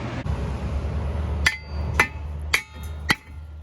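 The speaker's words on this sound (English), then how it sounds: "just take a hammer and just hit your brake rotor until it comes loose" Four sharp, ringing metallic blows from a hammer strike a car's brake rotor to knock it loose, evenly spaced about half a second apart against a low background rumble.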